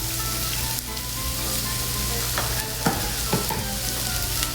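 Olive oil sizzles steadily in a hot pan while Bolognese sauce is being made, a close, continuous crackling hiss with a few brief spatters and scrapes.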